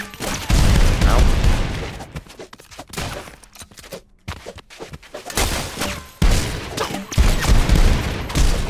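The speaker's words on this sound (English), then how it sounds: "you just have a grenade launcher" Chaotic video game gunfight with repeated explosive bursts and heavy firing from a grenade launcher, loud and dense with brief lulls between volleys.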